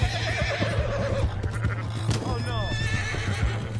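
Horse whinnying in the video game Red Dead Redemption 2, a wavering neigh in the first second over a steady hum, followed by a short exclamation from a voice and a few clattering sounds.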